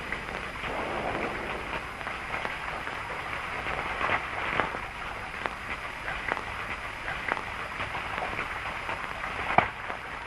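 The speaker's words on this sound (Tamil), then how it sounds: "வெளியில ஒரே மழை" Rain falls outside as a soft, steady hiss with scattered faint drips and taps, quiet and continuous throughout with no voices.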